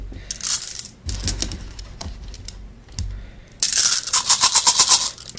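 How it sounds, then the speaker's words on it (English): Plastic board game gems shuffled by hand, a brief clatter early on, then a dense run of rapid clicking and rattling toward the end, close and fairly loud with no voices. "And then shuffle up the remaining 20 gems."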